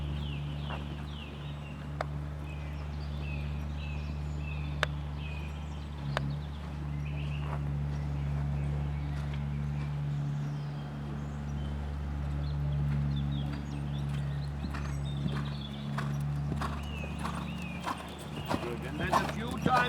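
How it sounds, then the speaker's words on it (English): Horse cantering on the right lead in a dressage clinic arena, soft rhythmic hoof clip-clop with faint snorts, steady and moderately close, with a low hum and occasional birds in the background. "Into the corner, then the transition into the right lead canter."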